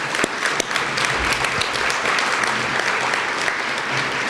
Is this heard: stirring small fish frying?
no